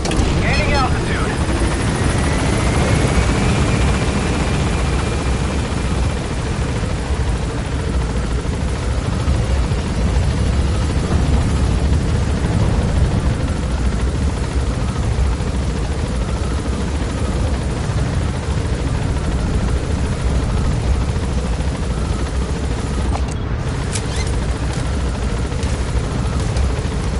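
Helicopter in the video game Metal Gear Solid V gaining altitude: a loud, continuous rotor and turbine roar with a dense throbbing wash, steady throughout, with voices heard over it.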